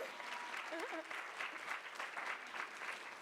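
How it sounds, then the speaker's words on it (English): A room at a women-in-sports panel breaks into steady applause, many hands clapping at moderate distance, faint and sustained throughout. "that's a round of applause"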